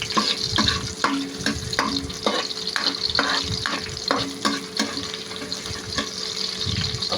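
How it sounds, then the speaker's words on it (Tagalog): Onions sautéing in a pan, a continuous sizzle broken by regular scraping and stirring strokes roughly every half second, close and fairly loud, with a faint watery hiss underneath. "uunahin natin igisa ang ating sibuyas"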